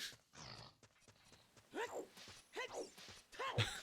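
A breathy, gasping horse vocalization from Ocarina of Time repeats three times in rising bursts, loud and close, with some clattering noise between them.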